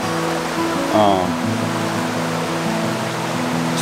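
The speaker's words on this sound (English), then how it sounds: "Made it to the Linville River" The Linville River flows in the mountains, a steady broadband rush of water heard close by and fairly loud, running without pause beneath someone speaking.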